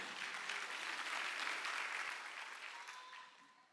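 A church congregation at a Sunday worship service in Incheon claps together in a dense, sustained round of applause that slowly fades.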